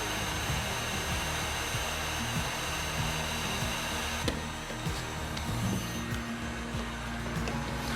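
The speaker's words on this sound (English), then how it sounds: "The easiest way I've found to get the twist out of the bow is with a heat gun" A heat gun blows a steady, loud roar of hot air onto a wooden bow to remove its twist, continuous and close throughout with only slight shifts in tone.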